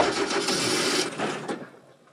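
A car engine cranks and catches, a loud, rough burst of mechanical noise that holds for about a second before fading into a quieter, uneven rumble.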